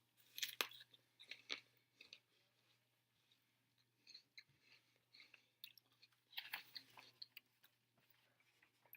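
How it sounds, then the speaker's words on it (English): Quiet, close crunching and chewing comes in irregular bursts, like someone biting into and eating an apple, over a low steady hum. "If you hear me crunching in the background, I'm eating my apple"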